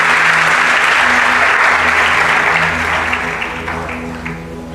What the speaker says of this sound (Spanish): Le da un aplauso bien fuerte al Señor.